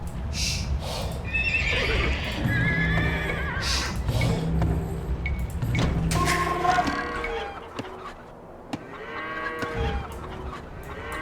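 Several horses in the video game Age of Empires 2 Definitive Edition neigh and whinny loudly in overlapping calls, close up, with clip-clopping hooves and farm-animal noise around them.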